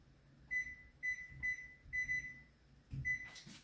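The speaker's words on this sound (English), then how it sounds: "oh, I guess let's just set the timer. So set your timer." A kitchen timer beeps five times in short, evenly spaced high-pitched beeps, faint and nearby, ending with a brief rustle as it is set.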